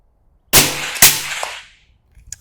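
Two sharp, loud rifle shots fired through a Vanish suppressor on a bolt gun at an outdoor range, about half a second apart, each trailing off in a brief echo, with faint noise after.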